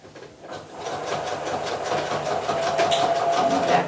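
Sewing machine stitching a row along the folded edge of a fabric nursing cover, a rapid rhythmic clatter of the needle that starts after a brief pause and runs steadily, close and clear.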